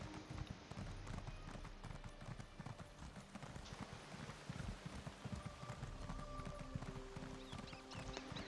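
Horse hooves clip-clop in a steady running rhythm while riding at low speed in Elder Scrolls Online, the hoofbeats fairly close and continuous under a soft ambient wash.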